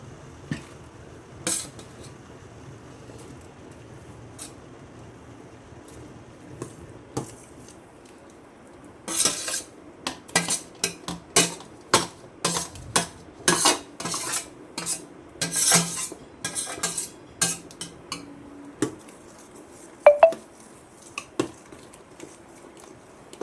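A spoon works grated boiled potato into a sabudana mixture in a pot, quiet at first, then a run of sharp scraping and clinking strokes against the metal, close and irregular, with no speech.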